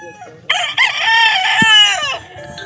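Kelso gamefowl rooster gives a single loud, close crow lasting about a second and a half, standing out clearly against a quiet background.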